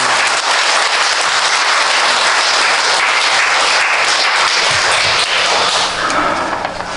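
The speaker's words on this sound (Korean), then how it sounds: "박수로 크게 환영하겠습니다." A church congregation at a Sunday evening mission service claps loudly to welcome the preacher, with sustained crowded applause throughout that thins slightly toward the end.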